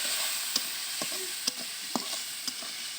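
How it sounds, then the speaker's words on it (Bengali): Soybean chunks fry in oil with turmeric and chili powder, giving a steady sizzling hiss broken by regular taps of a stirring spoon about every half second. "এটা দিয়ে আমি ভালো করে কষিয়ে নেব, তেল ছাড়া অবধি অপেক্ষা করব আমি।"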